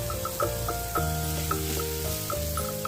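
Garlic frying in a pan with cumin and kasuri methi for palak paneer, a moderate continuous sizzle with occasional soft stirring clicks and a low background hum.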